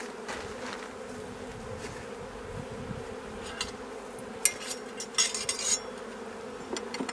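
Honeybees from a hive opened by a beekeeper drone steadily around the frames, with a continuous low insect hum and a few faint clicks and taps of frame handling near the end.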